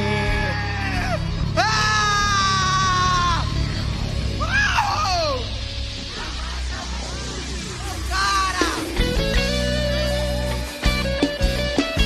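A live São João show crowd screams and cheers loudly and continuously, with high shrieks and yells rising over the din and a voice speaking through amplification.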